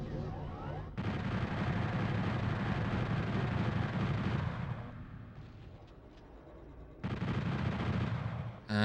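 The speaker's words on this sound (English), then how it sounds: "Might be time for a little chain gun." Sustained rapid-fire chain gun in the video game Final Doom, a loud dense roar of shots lasting several seconds, pausing briefly, then resuming at full strength near the end.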